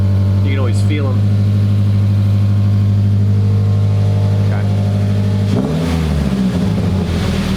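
A 2013 Subaru Forester engine with its muffler removed rumbles loudly and steadily at close range with a deep, raw exhaust note, then surges in a brief rev near the end.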